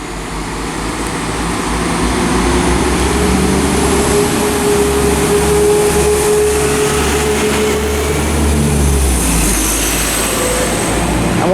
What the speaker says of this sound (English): departing now is 172212. This is the 1318 West Midlands Railway service to Whitlock's End